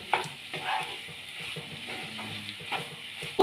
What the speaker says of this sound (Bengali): ডিমের কাঁচা গন্ধটা চলে যাওয়া পর্যন্ত দেখুন নেড়ে নিচ্ছি।